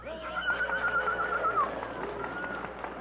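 A horse whinnies in a long, wavering neigh that rises and falls, with a second fainter neigh following, close and fairly loud.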